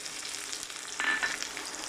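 Onions frying in a pan after garlic, a soft continuous crackling sizzle that swells briefly midway, close and without talk.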